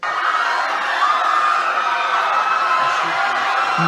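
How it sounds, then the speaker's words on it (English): A crowd panic sound effect plays as a dense, steady wash of many voices shouting and yelling together, loud and continuous without a break. "It's called crowd panic sound effect."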